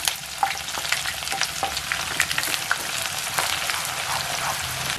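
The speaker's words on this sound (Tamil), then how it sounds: "வெங்காயம் நல்லா வதங்கிட்டு" Chopped onions sauté in hot oil in a pan for a lentil-dumpling curry, giving a steady, close sizzle broken by scattered crackles and the scrape of stirring.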